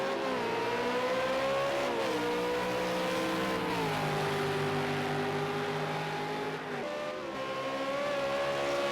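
A Supercars race car screams at high revs around Laguna Seca, its engine note climbing and dropping with gear changes and a brief lift off the throttle, loud and close throughout, with no voices.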